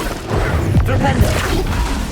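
A Flipendo spell impact in Hogwarts Legacy lands as a dull whooshing thump amid busy game combat noise, steady and fairly loud throughout.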